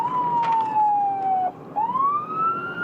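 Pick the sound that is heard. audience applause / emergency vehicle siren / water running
emergency vehicle siren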